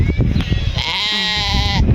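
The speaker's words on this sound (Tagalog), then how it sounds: "Dito muna tayo sa tabi ng kambal ko, kambing." Goats bleating close by on a farm near the sea, a long wavering bleat rising over a lower answering call, with brief background voices before it.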